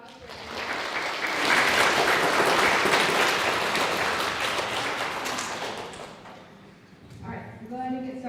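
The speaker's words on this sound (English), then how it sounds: "So, we can give them a round of applause for" Audience applauding at an elementary school geography bee, clapping that swells and holds for several seconds, then thins out as a voice begins speaking near the end.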